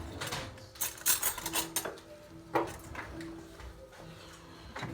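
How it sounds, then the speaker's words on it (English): A thick seafood gratin sauce is whisked briskly in a metal pan, making a close run of clinking, scraping strokes with sharper knocks mixed in. "grab my sauce, give it a quick little whisk"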